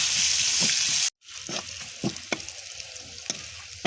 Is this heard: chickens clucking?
no